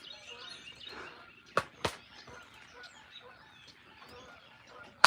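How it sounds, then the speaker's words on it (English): Outdoor ambience with faint, scattered goose calls in the background, plus a few sharp knocks and bumps close to the microphone. "Listen to them pretty geese."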